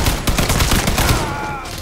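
An M60 machine gun fires a rapid, loud burst in the Mafia 3 video game, dense overlapping shots that then fade out.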